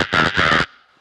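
On a talent-show stage, a performer's voice imitates a monkey with three loud, rough, hooting bursts in quick succession, then falls away into a faint trailing tail.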